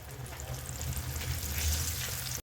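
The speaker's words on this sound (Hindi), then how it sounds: "डाल देंगे इस तरह से और इसे भी हम फ्राई कर लेते हैं" Sweet corn kernels fry in hot oil with a continuous, fairly loud bubbling sizzle that runs steadily throughout before cutting off abruptly at the end.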